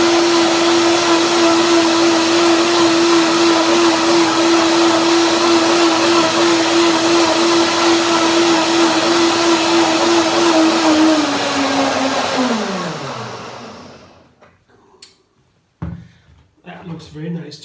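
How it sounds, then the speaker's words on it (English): A blender whirs loudly and steadily as it purees soaked seeds into a creamy tahini dressing for a kale salad, then its motor pitch slides down as it winds to a stop, followed by a few soft clunks. "now the blades can really make them very creamy in the second blending"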